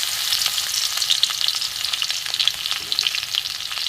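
Garlic frying in hot oil in a wok, a close, dense crackling sizzle with rapid spattering pops that holds steady and fairly loud throughout, no voices.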